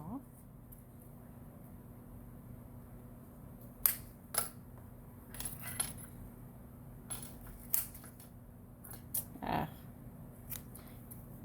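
Scissors snip several times while trimming material for a double pocket bag, sharp, scattered cuts close up against a quiet room.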